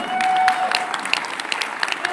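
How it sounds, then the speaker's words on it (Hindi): Audience applause at the Ramayana Pratham Sankalp event: a brief burst of many hands clapping at moderate level, dense and fairly even, with a faint tonal whistle near the start. "एक बार जोरदार तालियां हो जाए।"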